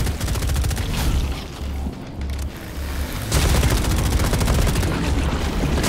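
Rapid gunfire from a video game shooter, loud dense bursts that dip briefly mid-clip then return heavier, with no voices over it.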